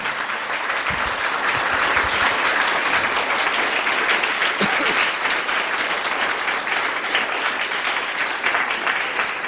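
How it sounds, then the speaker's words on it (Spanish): A church congregation applauds loudly, a dense and steady wash of many clapping hands that holds at full strength without a break, with no voice rising above it. "Si le vas a aplaudir,"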